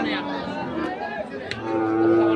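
Sahiwal bull calves low at a busy cattle market in Bangladesh, with long loud moos rising over a crowd chattering in the background.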